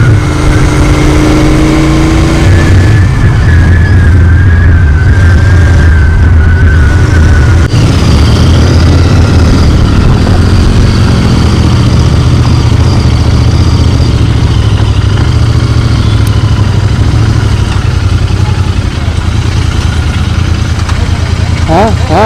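A Royal Enfield GT 650 motorcycle engine runs steadily while being ridden on the road, its loud continuous throb heard close alongside wind noise, with someone talking over it throughout.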